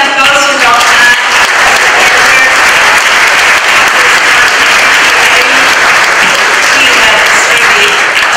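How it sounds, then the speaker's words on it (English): A Sunday church congregation applauds at a certificate ceremony, loud continuous clapping from many hands that holds steady throughout, with some voices faintly underneath. "Now, let's give an applause to Dr."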